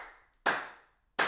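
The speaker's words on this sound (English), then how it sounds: "I can edit in a round of applause" Two sharp, bright claps about 0.7 seconds apart, each decaying quickly, with no voices around them.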